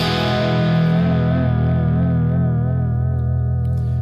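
A sustained, distorted electric guitar chord that wavers and bends gently in pitch from light tremolo bar pulls, giving a slow warbling wobble like tape as it rings out and fades.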